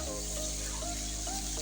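Sliced bitter gourd (karela) frying in oil in a pan, giving a steady soft sizzle with a constant low hum underneath and faint tonal squeaks now and then.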